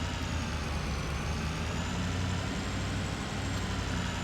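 Pickup truck towing a small trailer in Farming Simulator 25, a steady rumbling engine drone with a continuous low hum and no pauses throughout.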